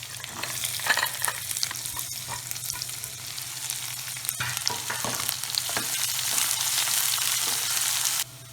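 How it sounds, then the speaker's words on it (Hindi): Onions tipped into hot oil already holding fried curry leaves, fennel and chilli for poha, sizzling and crackling steadily with stirring scrapes, loud and close with no talk, then cutting off near the end. "अब हम इसमें डालेंगे प्याज।"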